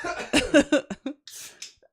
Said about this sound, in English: you're going to make me cough.